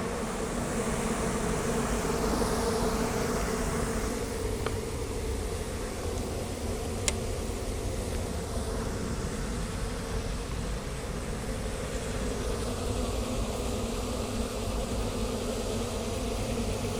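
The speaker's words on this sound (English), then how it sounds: "I don't know why these bees are doing this." A dense, steady drone of many bees buzzing around an open hive fills the air continuously, loud and close, with no talking.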